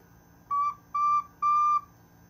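A pendant ocarina sounds three clean, steady notes with sustained pure whistle-like tones and short gaps between them, close and clear with no talking.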